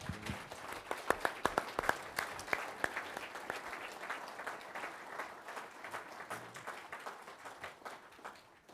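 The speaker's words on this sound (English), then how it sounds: "let's give our panel a great round of applause" An audience at a dairy industry symposium applauds a panel, a dense patter of many hands with a few sharper nearby claps, sustained throughout and gradually thinning toward the end.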